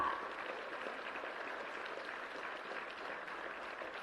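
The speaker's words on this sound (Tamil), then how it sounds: "பலத்த கரகோஷம் இருக்கட்டும்." Applause rises from an audience at a Tamil book launch ceremony. It is faint and distant: an even wash of clapping that holds steady across the whole stretch.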